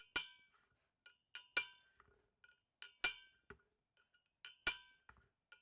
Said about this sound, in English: tap the spoke's head with a punch